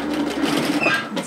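A sewing machine stitches a seam with a back tack, running in a fast, steady mechanical whir with rapid needle ticking throughout the short burst.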